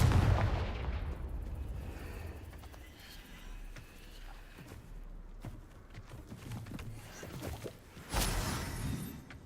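Fire-spell blasts in Hogwarts Legacy: a heavy booming burst at the start, then scattered crackling impacts and debris. A second loud explosive hit comes near the end.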